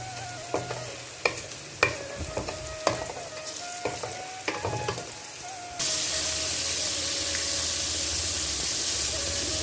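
Ginger garlic paste fries in a pan for a beef and jackfruit seed curry. Rhythmic scraping stir strokes and a soft sizzle give way to a steady, louder hiss of frying.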